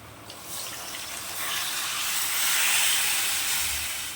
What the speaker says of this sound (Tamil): தண்ணி சேர்த்துக்கலாம் தேவையான அளவு